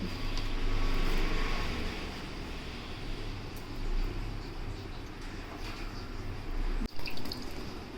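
Water is poured into a ground paste while cooking, giving a steady broadband splashing and trickling that runs for about eight seconds, with a brief dip near the end and no talking.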